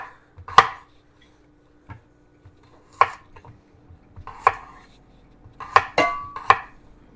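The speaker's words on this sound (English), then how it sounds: "So I'm going to cut these into, about 1-inch" Knife cutting Delicata squash into roughly inch-sized pieces on a board, a handful of separate, crisp chops spaced irregularly, close and clear against a quiet kitchen.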